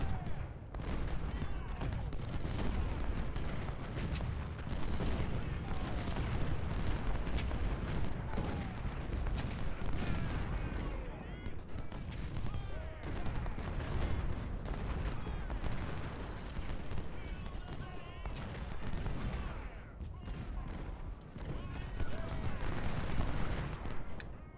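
Artillery and musket fire in the Civil War game Ultimate General at Hall's Ferry Road, a dense, continuous battle roar of booms and rattling gunshots that keeps up without a break.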